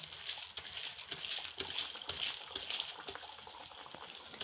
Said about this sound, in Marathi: आता हा अलगद हाताने असा उचलायचा आणि हा असा तेलात सोडायचा